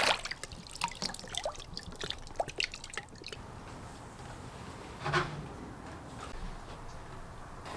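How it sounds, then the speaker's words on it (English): Water drips from a canvas water bag onto the ground outdoors, quick clustered drops at first, then sparse, faint single drips at close range. "I can already see from what's dripping on the ground here that my seasoned water bag is performing better still than this new one."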